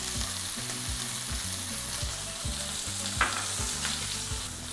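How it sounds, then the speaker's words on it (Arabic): Salmon fries in a pan, a steady close sizzle with rhythmic stirring or scraping throughout. "والسلامون في المقلة"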